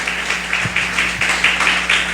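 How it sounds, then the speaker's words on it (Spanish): A church congregation applauds during an evening service, steady dense clapping filling the room for a couple of seconds with no talk over it. "Le da un aplauso a Jesús en esta noche."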